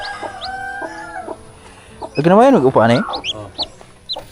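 Chickens and chicks cluck in a farmyard with a burst of loud, drawn-out calls in the middle and scattered shorter clucks around it, while a person talks nearby.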